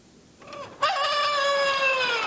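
A single chicken call, a drawn-out squawking cry rising sharply then holding, close and fairly clear over faint background noise.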